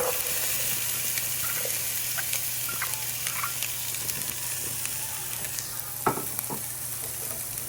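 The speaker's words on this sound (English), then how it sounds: "Put the oil in there. Go ahead and add the vegetables." Onion, pepper and garlic frying in hot oil in a pan, giving a steady close sizzle with scattered crackles and occasional stirring scrapes throughout.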